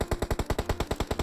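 Rapid automatic gunfire in PUBG Mobile, about a dozen evenly spaced loud shots in a steady burst, with no voices.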